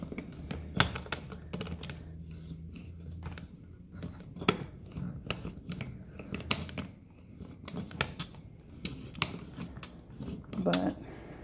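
A handheld multi-cutter is turned round and round on a paper button template, producing close, irregular clicking and scratchy scraping sounds in uneven bursts.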